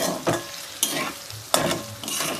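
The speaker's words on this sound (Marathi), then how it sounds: "आपला बटाटा चांगला परतून झालेला आहे" Thinly sliced potatoes for batata poha being stirred and sautéed in a pan, with repeated scraping stir strokes roughly every three-quarters of a second over a steady close sizzle.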